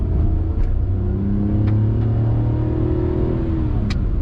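Maruti Suzuki Alto 800 small car engine revving up and settling back in a steady, close, loud drone with rising and falling pitch, no talking over it.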